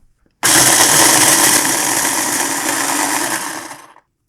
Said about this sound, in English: we have our 10 Oreos right in this little food processor that I'm going to blend up now to get fine crumbs